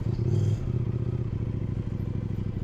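A Kove 800X Rally adventure motorcycle rumbles close by, a low, throbbing engine note with a brief louder surge at the start, then steady pulsing with faint mechanical clatter.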